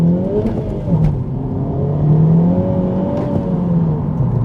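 A turbocharged Honda Civic Type R revs and pulls hard, its rising whine climbing in pitch through gear changes, loud and close with a steady roar underneath.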